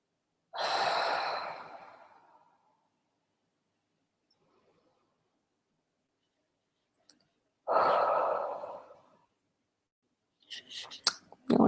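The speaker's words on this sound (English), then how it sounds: "Yawning again." Two long, breathy exhalations several seconds apart during a relaxation and tapping exercise, each swelling then fading into near silence, with some rustling at the end.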